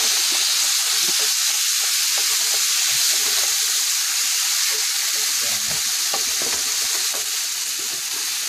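Tomato sauce stirred into a hot pan for Mexican rice, giving a bright, steady sizzle and hiss with faint scraping stir strokes underneath, close and continuous.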